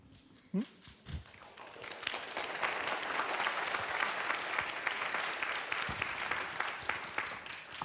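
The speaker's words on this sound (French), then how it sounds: "Applaudissements vigoureux." Vigorous applause from an audience filling a conference hall during a question session, a dense steady clatter of many hands that swells after a brief quieter start and holds strong to the end.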